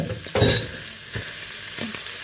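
Minced pork and beef hit a hot pan, a brief crackling sizzle with a scraping stir, followed by softer intermittent frying noise close by.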